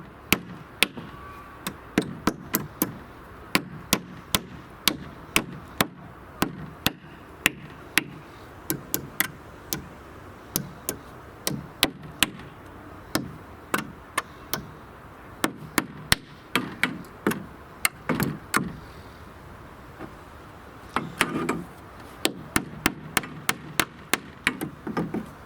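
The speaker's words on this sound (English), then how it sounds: "just use the claw hammer on the other side and just take them out." A claw hammer levers nails out of wood outdoors, giving a long series of sharp knocks and cracks that come in irregular clusters with short pauses between them, close and fairly quiet.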